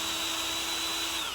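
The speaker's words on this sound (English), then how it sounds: "what I'm going to do is drill some holes in the back" A power drill bores holes into the back of a piece being joined with small fastening brackets, giving a loud, steady, high-pitched motor whine that runs unbroken from start to finish with no talking.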